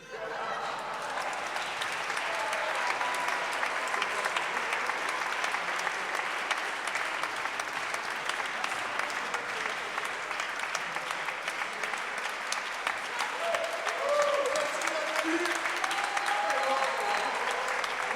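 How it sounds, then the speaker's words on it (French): An audience at a cabaret performance in the Musée Paul Éluard, Saint-Denis, breaks into sustained, warm applause, a dense steady clapping that carries on evenly for the whole stretch. "des magnifiques applaudissements nourris et chaleureux pour nos hôtes"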